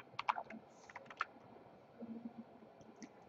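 A short burst of keystrokes entering a login name and password on a computer keyboard, a few quick clicks followed by fainter scattered taps, quiet and close.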